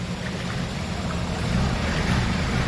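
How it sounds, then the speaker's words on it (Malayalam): Boats on the water at Poovar, a steady wash of engine and water noise rising slightly louder toward the end, with no voices. "ഇവിടെ എല്ലാം ഇങ്ങനത്തെ ബോട്ട്"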